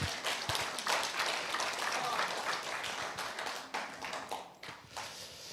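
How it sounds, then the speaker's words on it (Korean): An audience at a humanities lecture forum gives steady, moderately faint encouraging applause, a continuous patter of many hands that thins toward the end. "우리 격려의 박수 한번 부탁드립니다."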